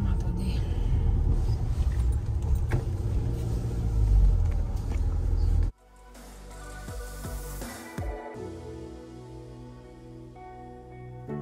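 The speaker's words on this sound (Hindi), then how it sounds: "इतनी खड़ी चढ़ाई है कि कभी कभी सेकंड गियर पे उठ नहीं पाती गाड़ी" A car grinds up a steep Himalayan mountain road in Himachal Pradesh in low gear, with a loud, heavy engine rumble for about six seconds before it cuts to quieter, tonal interior sounds.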